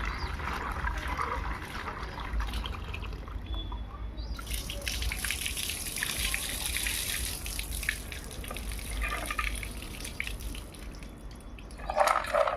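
Water runs and splashes steadily while sugandha (sarsaparilla) roots are washed clean of soil, a continuous close wash with faint bird calls in the background and a louder splash near the end.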